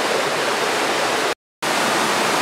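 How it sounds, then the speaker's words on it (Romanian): Loud, steady roar of the waterfall at Golitha Falls, close and continuous, broken by one brief gap of silence midway. "La cascadă."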